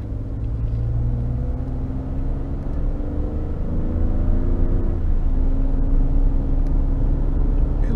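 A Ford F-150 pickup with the 2.7 EcoBoost engine tows a 6200 lb load up a slight hill on a wet road, its engine and road noise a steady low rumble that swells slightly as it pulls.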